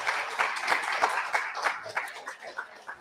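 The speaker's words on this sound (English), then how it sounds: "A warm round of applause." A live in-person audience at an author event for young-adult writers claps warmly, with fairly sparse individual claps that thin out and soften toward the end.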